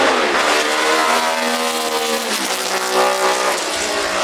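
A BRM-engined race car designed by Carlo Chiti drives at the Goodwood Festival of Speed. Its loud, close engine howls without a break, the pitch dipping and then climbing again as it accelerates.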